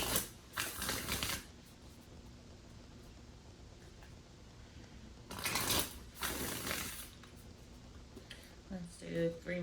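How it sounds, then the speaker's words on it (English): Tarot cards being shuffled at close range in two brisk, papery bursts, one at the start and a longer one midway, separated by a quiet stretch with faint room sound. "Let's do 3 more shuffles."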